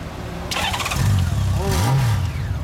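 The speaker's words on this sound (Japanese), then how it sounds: "エンジン音聞かせてもらえますか。" Honda GL1500SE Gold Wing motorcycle, a Canadian-spec 1998 model with an aftermarket muffler, cranks and starts close by, then its engine revs up and falls back twice before settling into a loud idle.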